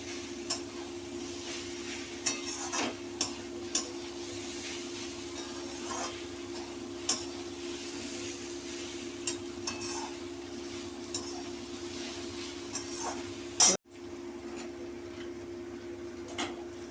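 A spoon works through banana flower curry sautéing in a pan, faint scattered taps and scrapes over a low steady hum, with a sharp louder clatter near the end.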